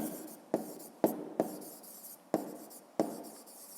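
Handwritten numbers scratched onto paper with a pen, five short sharp strokes spaced about half a second apart, each trailing into quieter scribbling, close and clear with no talking.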